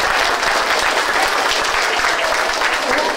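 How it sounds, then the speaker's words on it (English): Audience applause, a dense, sustained burst of many hands clapping, close and full for the whole stretch. "let's give them one last round of applause"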